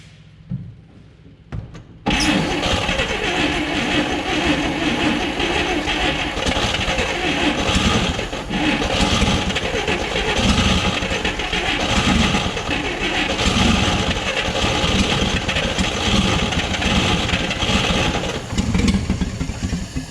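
A 1959 Chevrolet Apache truck engine, revived after sitting almost 40 years, runs loud and close at a rough, uneven idle, its faltering throb rising and dipping steadily after a brief quiet start.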